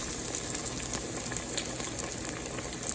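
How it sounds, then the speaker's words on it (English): Mozzarella sandwiches frying two at a time in hot oil in a pot, giving a steady, dense bubbling sizzle that holds constant throughout with no voices. "Now I'm going to fry them 2 at a time."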